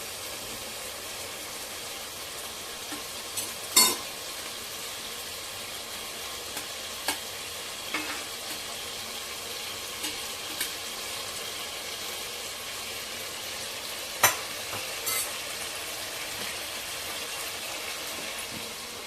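Steady oil sizzling and hissing close by as fish fries, with a few sharp pops and crackles scattered throughout.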